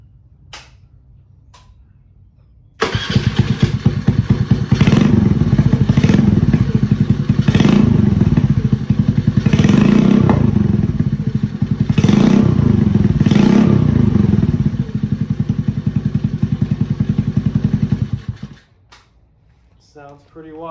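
Honda Navi motorcycle with a Hot Lap exhaust and the silencer removed, starting up after a faint click, then idling loud and raspy with repeated revving blips for about fifteen seconds before shutting off.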